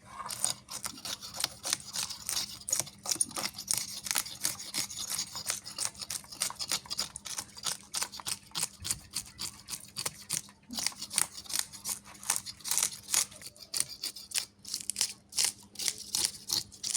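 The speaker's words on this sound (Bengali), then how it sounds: "কাটা বাছা করে নিই আমি মাছটা" A large hilsa fish being cut and cleaned by hand in a kitchen, giving a long run of close, fairly quiet snips, scrapes and clicks in an irregular rhythm over a low steady hum.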